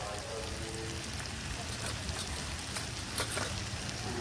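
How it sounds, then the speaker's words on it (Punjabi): Tomatoes, chilli and onion frying in a pan, giving a steady, soft sizzling crackle throughout with a few faint scraping stirs, low in level and close by. "4-5 ਮਿੰਟ ਲਈ ਅਸੀਂ ਟਮਾਟਰ ਮਿਰਚ ਤੇ ਪਿਆਜ਼ ਨੂੰ ਭੁੰਨ ਲਿਆ"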